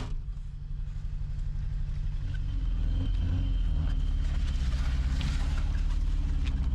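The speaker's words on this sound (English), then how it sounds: "The Batmobile is alive, driving down this muddy road" The Batmobile's engine rumbles steadily as the car drives down a muddy road, a low, throbbing drone that grows slightly louder and holds close, with faint scattered noises above it.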